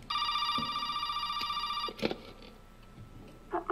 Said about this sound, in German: Jetzt klingelt das Telefon.